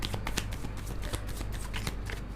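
Tarot cards shuffled by hand in a steady, rapid riffle of crisp papery flicks, close and fairly quiet, with no talking.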